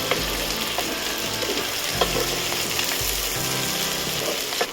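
Bitter gourd (boda kakarakaya) slices frying in plenty of oil, a loud, dense, continuous sizzle up close with repeated scraping and clattering stirs against the pan, no talking.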